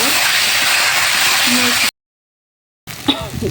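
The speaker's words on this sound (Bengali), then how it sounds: "এখন আমি আগে থেকে সিদ্ধ করা কচুর ফুলটা ঢেলে দিব এর ভিতরে।" Pre-boiled taro flowers tipped into a hot pan, giving a loud, steady hissing sizzle that cuts off abruptly, then a quieter sizzle with faint clatter returns.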